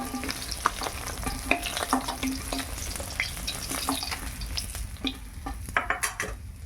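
Fish heads frying in oil in a pan, a steady sizzle with stirring scrapes and occasional utensil clinks running throughout, fairly close and with no talking.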